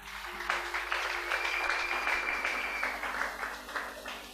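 A church congregation applauding after a scripture reading, a steady wash of clapping from many hands, moderately loud and continuous, with no talking over it.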